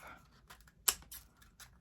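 Scissors snipping off excess material in a few quick, quiet cuts, with one sharp distinct snip standing out among softer rustles.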